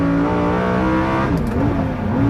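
A Lamborghini Huracan accelerates hard, its engine giving a loud, close, steady roar with rising harmonics and a brief dip and swell in pitch as the revs climb.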